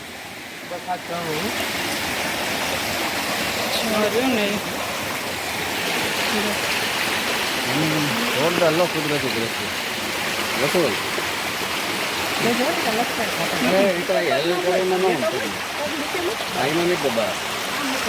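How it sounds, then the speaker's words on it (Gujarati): Steady rushing of a forest stream swollen by recent rain in the Barda hills near Ghumli fills the scene, with voices talking over it throughout. "અહીંયા જો પાણી જાય છે ને ઝરણા એ જોવા માટે આવ્યા છે"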